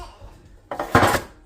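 A metal cake pan handled in a kitchen, giving a couple of close clattering knocks and scrapes after a quiet start, with a brief rattle of bakeware.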